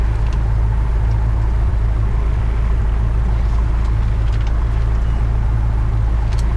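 Cessna 172 light aircraft engine at steady idle during pre-takeoff run-up checks, a continuous low droning hum with a constant deep harmonic tone, held loud and even throughout with no voices.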